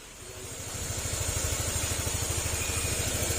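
A rebuilt motorcycle-style engine idles steadily up close, its low, even pulsing rhythm running throughout with a slight rise in level early on.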